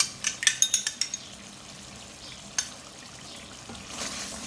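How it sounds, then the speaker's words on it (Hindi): Masala frying in a pot after beaten yogurt is added for chicken chana dal, a quick burst of clinking spoon taps and stirring at first, then a soft steady sizzle with another scrape later. "दही डाल के अब मैं इसकी भुनाई करूँगी।"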